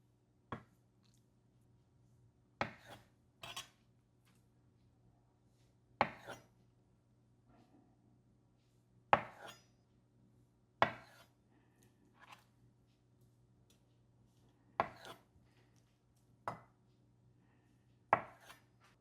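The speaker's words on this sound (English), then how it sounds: "now all we have left is the tofu, which we're going to cut down into about 1 inch by 2 inch rectangles" A knife cuts tofu into rectangles in a quiet kitchen, making sharp separate chops against a cutting board, about a dozen spaced irregularly over a low steady hum.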